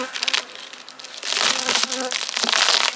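Honeybees buzz from an opened hive box, a close, uneven droning in bursts mixed with light crinkling and handling noises of the box.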